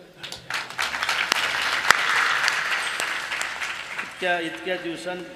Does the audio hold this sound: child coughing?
no